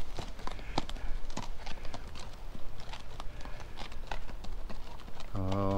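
Hooves clip-clop along a road at a walking pace, fairly close, with outdoor background noise throughout.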